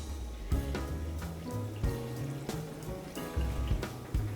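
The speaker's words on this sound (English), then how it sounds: "you're gonna need to add a little bit of water. So we're just gonna add about 1/4 of the way up with water" Water poured from a container into a blender jar to make juice, a steady gurgling, splashing pour close up with repeated glugging pulses throughout, no talk.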